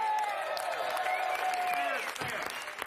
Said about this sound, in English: Pity clapping is still clapping